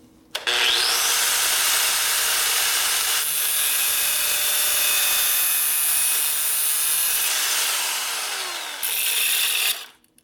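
A cutting disc slices through a part on a table during a Harley-Davidson shovelhead transmission rebuild, a loud, harsh, continuous grinding whine that holds steady for about nine seconds before cutting out abruptly, with no talking.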